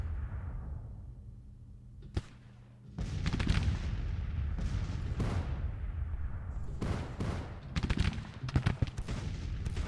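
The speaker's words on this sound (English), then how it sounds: "Taking some gunfire here, but surely that's okay. Actually taking substantial gunfire." Game gunfire in a Civil War strategy battle, rendered as dense, continuous crackling volleys with sharp individual shots. After a brief lull around two seconds it builds to a sustained roar and stays loud for the rest of the clip.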